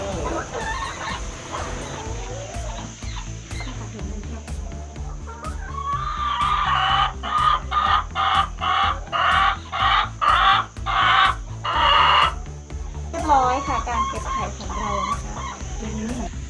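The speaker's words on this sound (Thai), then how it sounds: "ตอนนี้มีไก่ทั้งหมด 25 ตัว ที่เป็นไก่ตัวเมีย20 ตัว และไก่ตัวผู้อีก1ตัว" Hens and a rooster in a school chicken coop cluck in busy, rhythmic bursts that grow loud midway, with occasional crowing and some voices in the background.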